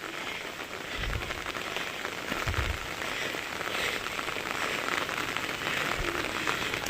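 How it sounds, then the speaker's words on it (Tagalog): Steady rain pattering on a waiting shed, a continuous hiss with a few low thumps, fairly close and moderately loud, no voices. "Naabutan kami ng ulan, guys."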